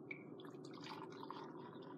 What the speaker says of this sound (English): Then pour it into your cup.